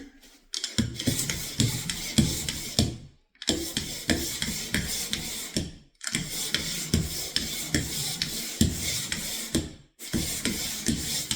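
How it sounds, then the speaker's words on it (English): A wooden furniture piece is sanded by hand in repeated rough rubbing strokes, with short pauses between bursts. The scratching is close and moderately loud, and no voice is heard. "I think I may want to sort of sand it a little bit before we begin"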